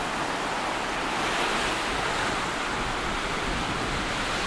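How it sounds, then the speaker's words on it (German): Wind blows across a palm-lined white-sand beach on La Digue in the Seychelles, a loud, unbroken rushing roar that may carry surf beneath it, with no talk. "Bisschen Wind"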